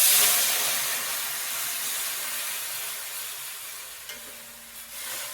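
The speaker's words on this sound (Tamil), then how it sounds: "மஞ்சத்தூள் போட்டு வதக்கிட்டு இதில் இப்போது இந்த வடிகட்டி வச்ச கேரட் அண்டு தக்காளி இதை ஊற்றிடலாம்" Loud hissing sizzle as strained carrot and tomato liquid hits a hot pan of spices, gradually settling into a softer steady fry with a small clink.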